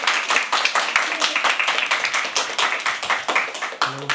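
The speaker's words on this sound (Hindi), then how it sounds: "बजाओ ताली तब तक।" A live poetry open mic crowd at The Habitat keeps up continuous brisk applause, many hands clapping close and loud, with a short spoken bit near the end.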